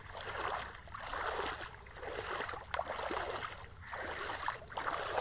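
Slow wading through knee-deep floodwater that has spilled over from a pond, with steady broad swishing and splashing of water around the legs, continuous and close, in gentle surges with no talking.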